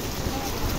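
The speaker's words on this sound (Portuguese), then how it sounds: "Olha isso, quanta água, gente. Quanta chuva." Steady, dense hiss of heavy rain pouring down in Recife, Pernambuco, causing flooding, unbroken and loud throughout.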